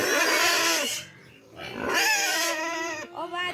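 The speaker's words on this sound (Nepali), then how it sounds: "सुँगुरहरूले हैरान बनाउँछ नि" Pigs on a farm, hungry at feeding time, let out loud squealing grunts close by, two long squeals and a shorter one.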